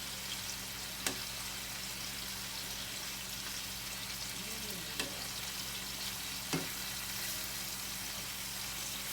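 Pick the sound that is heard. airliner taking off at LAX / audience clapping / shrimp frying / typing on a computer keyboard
shrimp frying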